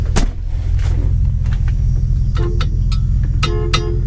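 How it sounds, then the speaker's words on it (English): Horn of a 1964 Ford Galaxie 500 honking in several short blasts over a steady idling engine rumble, close and loud. "Horn works."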